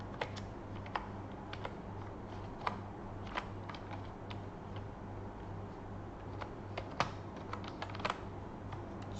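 Fingers type on a computer keyboard close by, irregular quick key clicks with occasional louder taps, running steadily over a low background hum.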